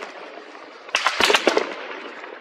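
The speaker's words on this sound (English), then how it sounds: "They point their rifles at residents and then they shoot" Rifle shots ring out at residents in the West Bank, a cluster of sharp cracking reports packed into about a second over a steady outdoor hiss, sounding somewhat distant.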